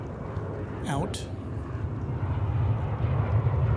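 A Boeing 777 airliner at Dallas/Fort Worth Airport gives a steady, rising jet engine roar that builds through the clip, heard outdoors from a distance with a voice speaking briefly over it.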